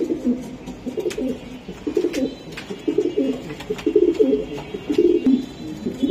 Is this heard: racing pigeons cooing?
yes